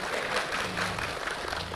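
Congregation applauding during a Christian sermon in a church, a dense wash of clapping that fills the short moment at steady loudness, with some crowd murmur beneath.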